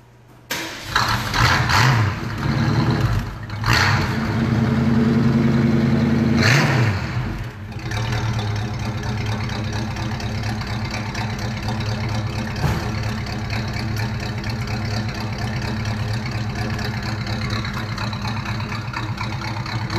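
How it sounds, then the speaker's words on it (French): A car engine starts with a couple of cranking bursts, revs briefly, then settles into a steady mid-pitched idle that runs on evenly and fairly close for the rest of the clip. "Vous voulez que la voiture elle parle plus fort aussi?"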